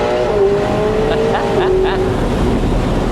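A 2025 McLaren 750S Spider engine, 750 horsepower, revs hard as it accelerates, its pitch climbing in a few rising sweeps, loud and close against a constant roar.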